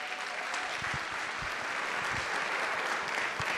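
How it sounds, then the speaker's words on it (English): Welcome applause from a competition audience at a stage presentation fills the clip, a dense, steady patter of many hands clapping at even loudness throughout, with no speech over it. "round of welcome applause to everybody"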